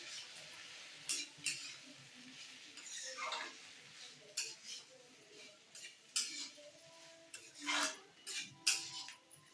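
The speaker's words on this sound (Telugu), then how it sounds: "వేసి ఒకసారి కలబెట్టేద్దాము" Tomato pachadi with rock salt is stirred in a pan, making intermittent clinks and scrapes of a spoon against metal over a faint sizzle, close and fairly quiet, without speech.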